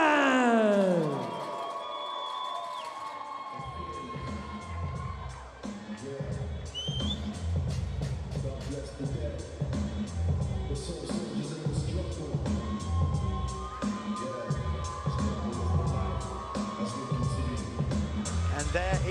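A fight-night crowd at an MMA event in Manchester cheers and roars as a fighter from Manchester walks out to the cage, a dense, sustained noise of many voices throughout, with an announcer-style voice heard over it near the start.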